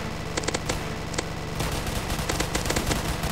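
Gunfire crackles through a Roblox Zombie Attack game in quick clustered bursts of shots over a constant dense game soundtrack, growing busier partway through.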